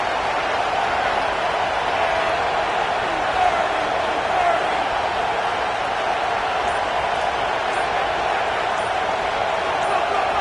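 A stadium crowd at a college football game roars steadily as a broadband wash of noise, loud and continuous throughout, with a commentator's voice running over it.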